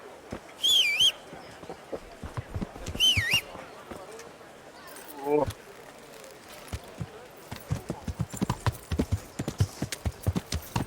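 Hooves clip-clop in a steady walking rhythm in the video game Kingdom Come: Deliverance, joined by a few high chirps and a brief whinny-like call, close and moderately loud.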